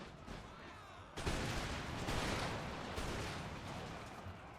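Cannon fire in the Empire Total War game builds into a dense, continuous rumble of overlapping booms, with a sharp onset partway through and no speech on top.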